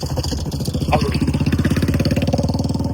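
A motorcycle engine running close by near the Dwarka lighthouse by the sea, with a fast, steady thumping idle that rises slightly partway through.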